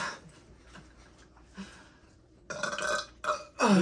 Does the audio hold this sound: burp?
yes